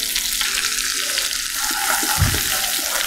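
Curry leaves and garlic frying in a pan for tomato dosa, a steady close sizzle with stirring throughout and a brief louder hiss near the end, no talking.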